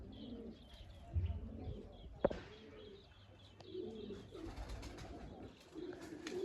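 Domestic pigeons in a loft give soft, repeated coos and a few brief chirps, heard fairly close but quiet, with a sharp knock partway through.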